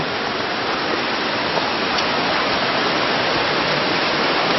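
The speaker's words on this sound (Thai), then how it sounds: "แต่นี่คือเป็น น้ำตกเล็กๆ นะครับ" Steady rushing water fills the air, a dense even hiss like a small waterfall close by, with no other sounds standing out.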